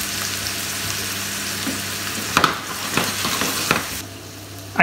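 Octopus caramelizes with honey in a little oil in a pan, a continuous close sizzle broken by a few sharper spatters and stirring scrapes.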